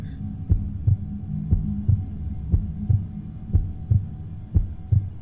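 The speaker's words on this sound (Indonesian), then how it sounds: "ini suara deg-degan." Roblox Far From Land heartbeat effect, a steady lub-dub thumping repeated about once a second, loud and close over a low hum, with no voices.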